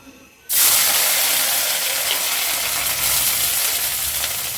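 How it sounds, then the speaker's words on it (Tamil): Onions and curry leaves dropped into hot oil for a chicken liver fry, a sudden loud burst of sizzling that settles into a steady, close, hissing fry. "இப்போ நான் வெங்காயமும் இந்த கருவேப்பிலையும் சேர்த்துக்கிறேன்"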